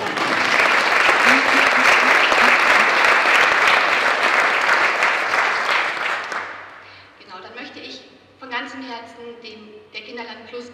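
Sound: applause at an award ceremony

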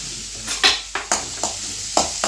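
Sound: onions sautéing in coconut oil

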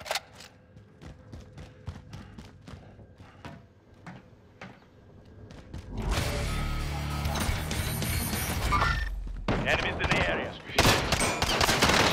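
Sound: gunfire in Call of Duty: Modern Warfare video game

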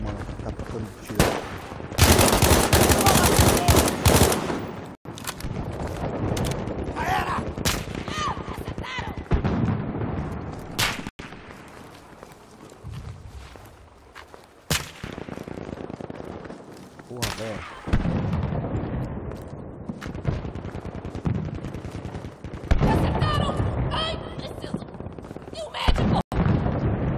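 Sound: gunfire

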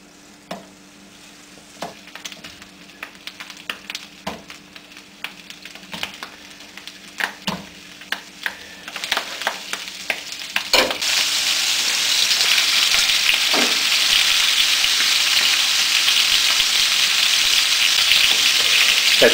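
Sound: bratwurst frying in butter

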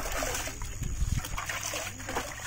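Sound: water poured in while making jeevamritham

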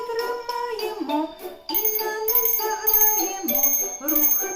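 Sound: small bell ringing in children's music class

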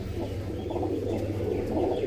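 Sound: pigeons kept as hobby birds

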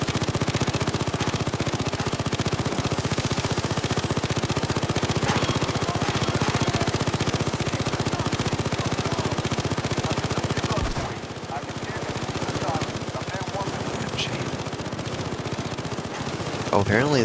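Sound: sentry turrets firing in video game Payday 2

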